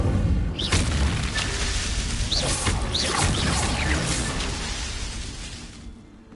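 An Incendio fire spell cast in Hogwarts Legacy on PS5 erupts as a loud, roaring whoosh of flame with booming bursts that sustains for several seconds before fading out.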